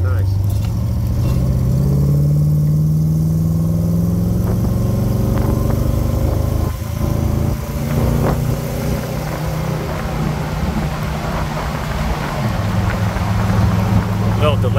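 A 1964 Ford Galaxie 500 XL with a 428 V8 and fuel injection driving and shifting gears, a loud, steady engine drone that rises in pitch and then drops at a gear change, with someone talking over it.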